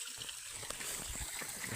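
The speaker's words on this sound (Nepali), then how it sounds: "यहाँ हेर्नुहोस् यस्तो धारा छ यहाँनिर यस्तो कुवा छ" Water runs from a village spout in a short, steady, close trickle with a soft gurgle, and no voices are heard.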